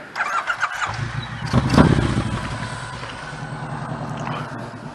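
A motorcycle with baffles but no exhaust packing cranks over and fires, catching with a loud rough burst before settling into a steady, throaty idle close by.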